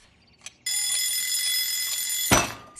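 An alarm clock rings in a continuous bright, high metallic trill for almost two seconds after a couple of faint clicks, then cuts off with a soft thump.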